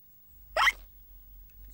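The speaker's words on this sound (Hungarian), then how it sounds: "Zsoli csuklása tönkreteszi a játékot." A cartoon pig character from Peppa Pig gives a single sharp hiccup, a brief loud squeak-like gulp that stands alone against near silence.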